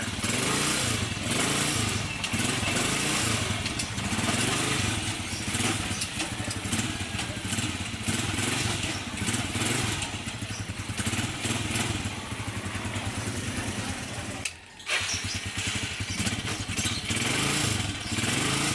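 A repaired motorcycle engine runs steadily nearby with a rough, rapid chugging idle and mechanical clatter, continuous and loud throughout apart from one brief dip near the end.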